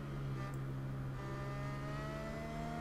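A steady, tonal engine whine hums at constant pitch with a faint higher drone, like a Formula 1 car running in the game Formula 1 Manager 2022, quiet and without speech.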